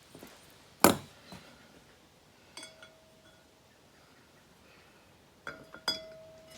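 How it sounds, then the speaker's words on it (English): A trailer wheel bearing is beaten into place on a landscape trailer. Three or four sharp metallic clinks ring out at irregular intervals, the first loudest, with quiet gaps between and no voices. "you got to beat it in this way so it sits down in there"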